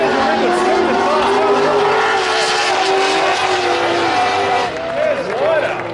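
Drift cars in the finals battle at MadMike Summerbash 2018 scream past at full throttle. Loud, continuous engine roar with revving pitch swings over a crowd, and a commentator talks over it throughout.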